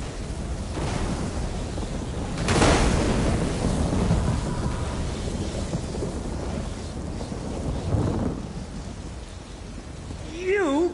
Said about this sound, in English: You want more lightning? I have plenty to go around!